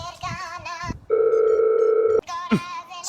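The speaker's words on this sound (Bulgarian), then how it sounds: "чакай, че ми звъни телефона" A mobile phone ringing with a steady electronic tone lasting about a second, loud and close, between stretches of speech.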